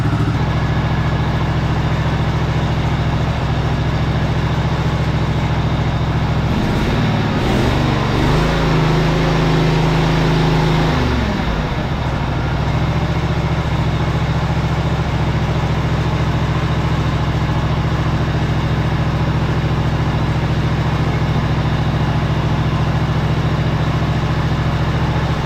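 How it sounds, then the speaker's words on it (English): A riding lawn mower engine runs steadily at idle just after a full-choke start, loud and close with a constant low drone and a brief shift in tone partway through. "the engine sounds great"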